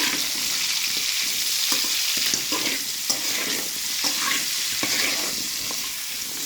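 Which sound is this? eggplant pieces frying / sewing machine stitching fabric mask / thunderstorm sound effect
eggplant pieces frying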